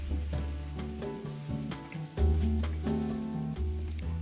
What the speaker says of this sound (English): And then the mushrooms go in, and I just like to get them nice and soft all together.